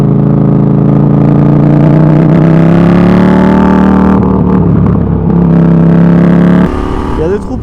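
A KTM Duke 790 motorcycle is ridden fast on a rough, potholed road, and its loud, steady engine drone shifts in pitch as it rises and falls. A voice talks over the noise.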